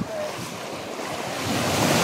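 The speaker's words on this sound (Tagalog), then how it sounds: "Lakas ng alon." Strong ocean waves wash and surge continuously at a shoreline during crab fishing, a loud rushing roar mixed with wind buffeting the microphone, building slightly toward the end.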